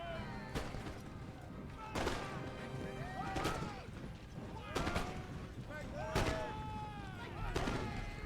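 British line infantry return fire in an Empire Total War battle, with sharp musket volleys cracking out about every second and a half, each with a trailing echo, over a busy battlefield din of shouts and clatter.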